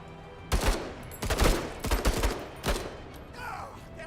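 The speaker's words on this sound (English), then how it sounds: "They're shooting us." Enemy gunfire in the tactical game MENACE: several bursts of shots crack out around the player, loud and close, spread in irregular clusters with a brief lull between volleys.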